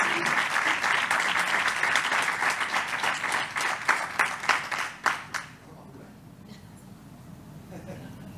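At a Civil Protection recognition ceremony, the crowd claps for Manuel Caro Caro, with dense, fairly loud applause that thins into scattered individual claps and fades out after about five seconds, leaving a quiet room.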